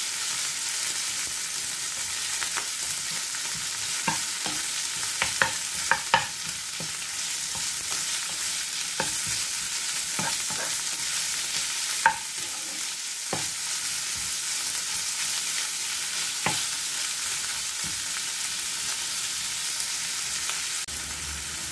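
A tofu dish sizzles and fries steadily in a pan while it is sautéed and stirred, with scattered clicks and scrapes of the utensil against the pan and black pepper being added; no one speaks.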